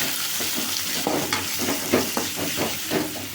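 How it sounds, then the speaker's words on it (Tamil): Onions and tomatoes sauté in a pan for a chicken dish, giving a steady close sizzle and hiss with a few scraping stir strokes at an even pace, with no voices. "இப்போ வந்து வெங்காயம் தக்காளி பழம் அரிஞ்சு வச்சிருக்கு, கொத்தமல்லி அரிஞ்சு வச்சிருக்கு, அது ஒரு வதக்குறோம்."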